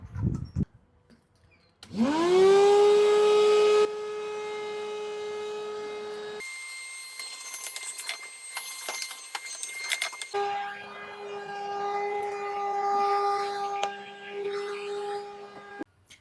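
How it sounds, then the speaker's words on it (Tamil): A large homemade vacuum cleaner motor whines up to a loud, steady tonal hum, then its pitch and texture shift as it runs on with rattling and fluttering airflow, close by and with no talking. "இப்போ நம்ம வேக்கம் யூஸ் பண்ணி பார்ப்போம்"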